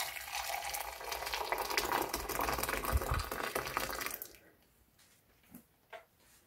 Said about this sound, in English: In goes my hot water.